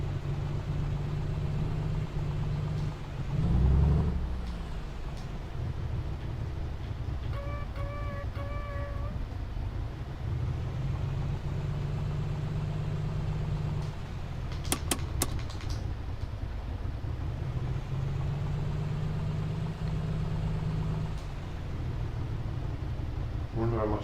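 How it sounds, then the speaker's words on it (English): A light aircraft's piston engine running rough with some cylinders down, on a long-distance flight; a steady, continuous drone heard from inside the cabin, with a brief voice partway through. "Now you can hear how rough the engine is."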